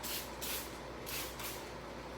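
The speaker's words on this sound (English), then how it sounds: "You're going to grab your spray bottle" A few quick bursts of fine hissing water mist from a spray bottle onto foam, close by, with short pauses between them and no voices.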